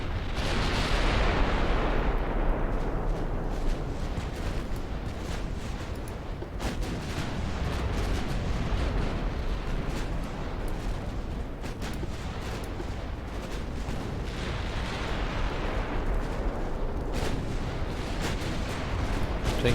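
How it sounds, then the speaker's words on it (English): 15-inch naval guns fire in the Ultimate Admiral Dreadnoughts video game, in a British 1900 campaign battle. Two heavy booming salvos land about fifteen seconds apart, with a long rolling rumble in between. "Let's see what these 16-inch guns can do."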